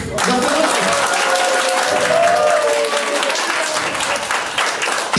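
Broad, sustained clapping fills a wedding banquet hall as guests applaud, the crowd loud and continuous with a few voices and a faint tonal sound running underneath.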